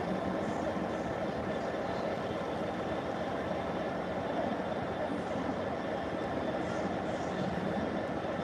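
A Class 66 double-pack diesel locomotive pulls away from a station, a steady low engine rumble and broad mechanical noise holding constant throughout.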